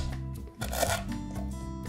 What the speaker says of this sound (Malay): Ambil 4 ulas bawang putih, cincang kasar dulu.